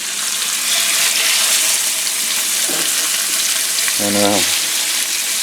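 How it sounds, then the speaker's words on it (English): Seasoned pork chop searing in butter and olive oil just under medium-high heat, a loud, steady hiss and crackle of frying throughout, with a brief spoken word near the end. "we're just going to sear this off on both sides"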